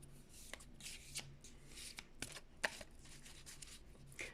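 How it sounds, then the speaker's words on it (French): Oracle cards being shuffled by hand, a quiet run of soft riffling and rustling with a few sharper slaps and flicks, close up and with no talking. "Je vais le mélanger."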